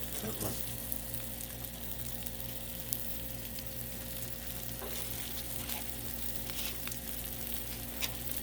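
Burgers frying on a Blackstone griddle, with a steady, close sizzle and a constant hiss throughout, plus a few faint clicks and scrapes.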